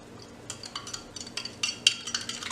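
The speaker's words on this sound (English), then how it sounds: "And we'll give that a little stir." A spoon stirs drink mix into a bottle of room-temperature water, giving a run of light, quick clinks and taps at moderate level over a faint steady background.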